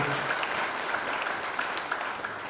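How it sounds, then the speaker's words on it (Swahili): A church congregation claps together at the grand opening of a new sanctuary. The applause is dense, steady and moderately loud, and it runs through the whole stretch. "Tupige mpaka Mungu makofi sana"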